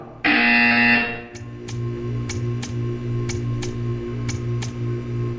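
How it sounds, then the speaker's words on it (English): A loud, harsh buzzer blares for about a second in the Portal 2 video game, then gives way to a steady hum with evenly spaced ticking clicks. "You will hear a buzzer."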